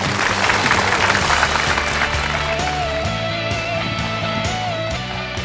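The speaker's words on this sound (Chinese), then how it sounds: "接下来我们掌声有请下一位告白者" Audience applause greets the next confessor stepping onto a television dating-show stage, a steady, dense wash of clapping that holds at an even level for the whole stretch, with a faint tone rising near the end.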